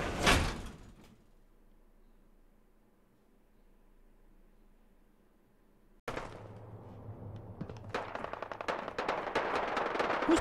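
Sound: gunshots in the video game Fallout 4

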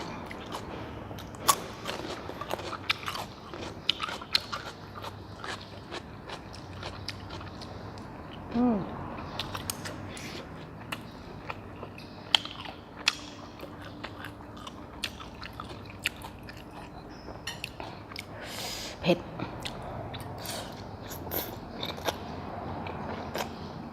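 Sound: biting and chewing fried sausage

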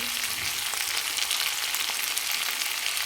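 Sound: mutton pieces frying in a pan with salt and coriander

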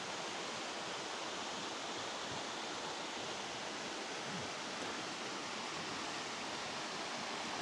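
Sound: Stiffe waterfall near the caves

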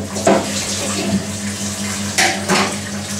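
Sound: cold tap water running over cooked black puddings

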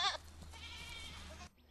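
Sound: goats and sheep bleating while grazing

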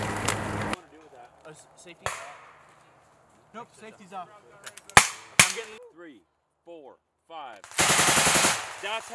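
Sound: machine gun sustained fire burst during training

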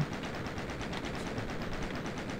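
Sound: gunshots in the video game Doom

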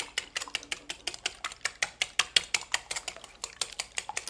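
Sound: whisking eggs in a bowl for cauliflower pizza

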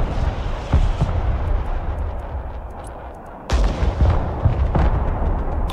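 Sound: artillery firing in video game Broken Arrow

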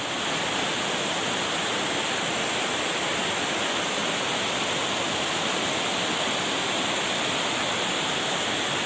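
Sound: strong flowing river current at night

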